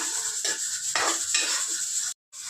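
Asafoetida frying in hot oil in a pan for a roasted brinjal bharit, heard as close sizzling with a few scraping stir strokes across the pan before a brief cut to silence.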